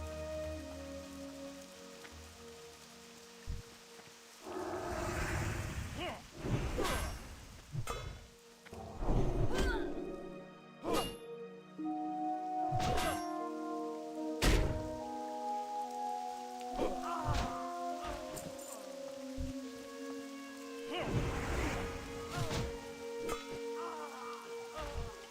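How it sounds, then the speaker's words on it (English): Steady rain falls in the online game World of Warcraft Classic Hardcore, a soft continuous patter broken by occasional thuds, with sustained tonal game sounds over it. "it was foggy and now it's rainy"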